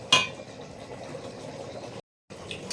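Watery masala simmering in a pan, a soft steady bubbling and sizzling close by, with a clink at the start and a brief cut of silence near the end.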